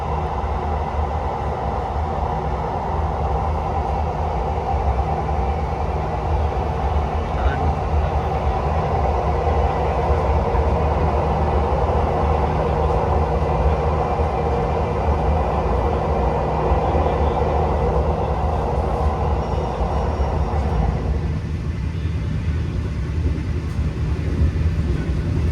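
Inside the cabin of an economy passenger train running through a tunnel on the Purwokerto to Jember route in Indonesia, a loud, steady rumble and roar of wheels and carriage noise continues unbroken.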